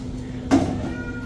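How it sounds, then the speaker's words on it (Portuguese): A house cat meows once, a short close cry over a steady background hum, with no talk. "É porque Caleuzinho mia"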